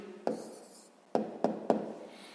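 A pen writes down the answer to a sixth-grade math problem, giving four sharp, separate taps and short scratches on paper in a quiet room.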